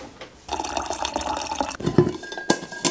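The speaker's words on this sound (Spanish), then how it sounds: "voy a llenarme esto de agua." Water runs into a container from a tap indoors, a close splashing stream that starts after a moment, fluctuates and is punctuated by a few knocks and clinks near the end.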